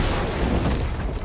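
A deep, rumbling explosion as enemy ships are destroyed in a naval captain video game, a dense, continuous boom that fills the whole short moment.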